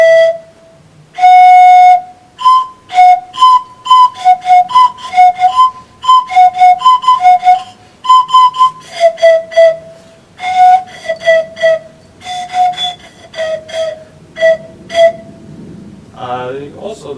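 A homemade harmonica-style instrument with a whistle fixed to its end is played in bright, reedy tones, a run of short rhythmic note bursts followed by longer held pitches, loud and close, with a voice briefly audible near the end.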